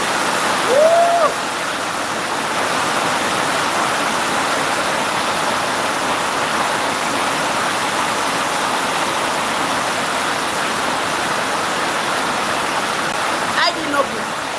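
Heavy rain pours down in Nigeria, a dense, constant hiss of falling water that holds steady and close from start to finish, with a voice speaking briefly near the beginning and again near the end.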